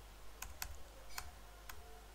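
Typing on a computer keyboard in Microsoft Word: four quiet, distinct key clicks at irregular spacing over a low steady background hum, with no talking.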